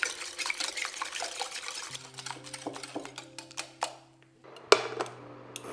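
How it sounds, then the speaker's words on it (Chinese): Eggs, extra yolks and fine sugar whisked together in a bowl for a caramel pudding cake, giving a steady close scraping and tapping rhythm against the bowl, with a few sharper clinks and a short pause near the end. "加入细砂糖，搅拌直到听不到沙沙的声音。"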